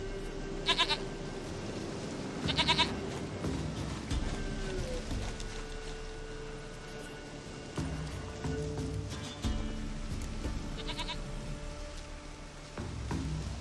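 A goat bleats several times in short, nasal bursts in The Witcher 3: Wild Hunt, spaced apart over a soft ambient background of steady game hum and light patter.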